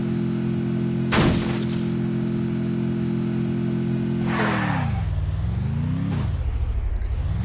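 Engine of a vehicle driven in the Free Fire battle royale game, a steady mid-pitched hum whose pitch drops and rises twice as it slows and revs, with a sharp crash-like burst early on.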